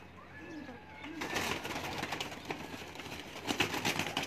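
Lakha pigeons, a champion racing breed, coo nearby in a loft after a quiet start, their calls joining a dense, continuous bird chorus.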